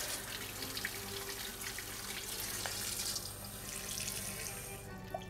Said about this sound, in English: I don't know how this tap works yet, I've gone up to 200.